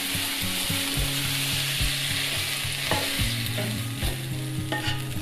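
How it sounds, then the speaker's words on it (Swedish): Chopped onion and bacon frying in a pan, a dense continuous sizzle with stirring scrapes throughout, close and loud, while low music plays underneath. "Och så steker man det. Blandar löken och baconet."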